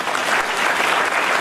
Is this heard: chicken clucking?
no